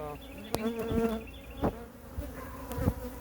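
A bee buzzes close inside a beekeeper's veil during hive work installing nucs, a loud, wavering drone that runs continuously through the clip with a few clicks and bumps.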